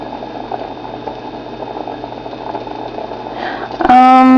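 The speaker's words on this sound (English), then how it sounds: "right now I have the water on high heat, so that it can come to a boil" Water heating on high in a medium two-quart non-stick saucepan, bubbling steadily toward a rolling boil, with a sudden louder hiss and bubbling surge at the end.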